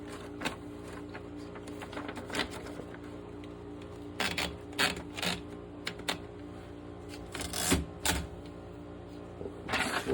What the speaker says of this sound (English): Alright, let's do some more typing.